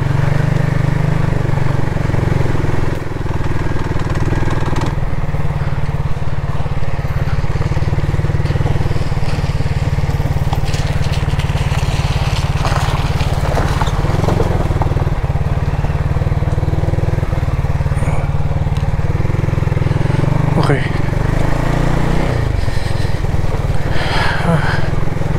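Benelli Leoncino 250 motorcycle ridden off-road, its engine droning steadily and loudly with rumble, plus scattered knocks and crunches from the rough track, while a rider speaks over it at times.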